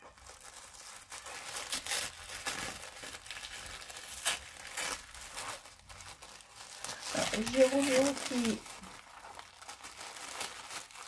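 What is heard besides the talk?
unwrapping tissue paper from a parcel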